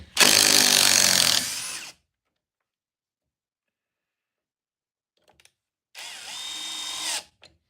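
A RIDGID 4-mode impact driver runs in two loud bursts, a continuous two-second whir, then near silence with faint clicks, then a second burst of about a second and a half, heard up close.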